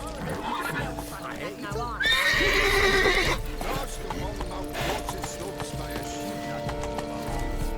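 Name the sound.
horse neighing and hooves in The Witcher 3 video game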